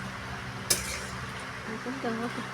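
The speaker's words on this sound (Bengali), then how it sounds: "জল দিয়ে আমি ভালো করে নেড়ে ঢাকা দিয়ে দেবো" Vegetable curry stirred in a pot after water goes in, with a sharp metallic clink early on and soft scraping and bubbling. A voice murmurs faintly near the end.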